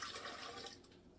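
Water poured into a mixing bowl holding yeast for protein bread, a steady close splashing stream lasting about a second and tapering off at the end, with no talk over it.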